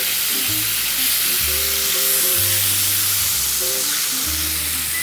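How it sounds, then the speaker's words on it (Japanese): Duck and leek tossed in soy sauce, sake and mirin in a pan, a loud continuous sizzle and bubbling hiss with low rumbling beneath. "醤油、酒、みりん、これだけです。 絡めていきます。"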